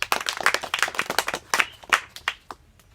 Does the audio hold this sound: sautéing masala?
no